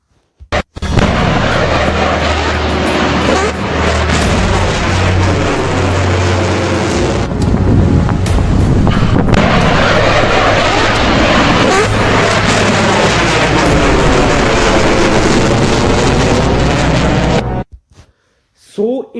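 An Indian Western Command missile test launch gives a loud, sustained broadband roar that holds steady for about seventeen seconds, then cuts off abruptly.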